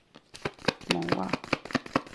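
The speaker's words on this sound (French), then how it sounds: "2 ou 3 cartes, hein, je ne vais pas en prendre trop." Tarot cards being drawn from a deck and shuffled, a quick series of crisp papery flicks and slaps close up, with a voice talking softly over them.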